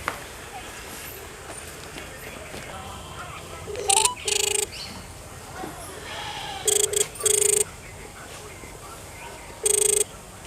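A telephone rings several times in short electronic bursts during a call outdoors, over a noisy background with faint voices.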